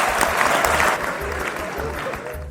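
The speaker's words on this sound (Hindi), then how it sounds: "एक बार इन कलाकारों के लिए तालियां हो जाएं।" An audience at a Republic Day program applauds dance performers, with dense clapping that is loud at first and then eases slightly. A low rhythmic thump of music and some crowd murmur sit beneath it.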